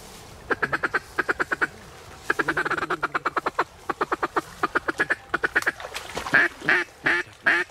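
Ducks quack in repeated rhythmic bursts during a duck hunt, a steady series of nasal calls close by with short pauses between runs and no talking.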